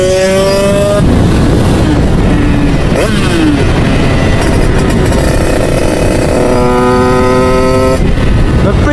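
Loud, close motorcycle engine revving in bursts, with rising and falling pitch and a brief drop near the middle; the bike recently had its ignition changed and runs much better.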